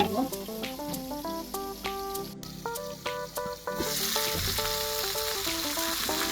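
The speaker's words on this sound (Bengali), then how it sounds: "দুটো দুটো করে ভেজে নেব ঢাকনা দিয়ে ঢেকে" Tandoori chicken pieces frying in a covered pan, a steady close sizzle that swells louder near the end, with a bright tune playing over it.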